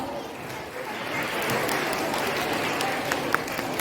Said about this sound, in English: Please give this talented student a huge round of applause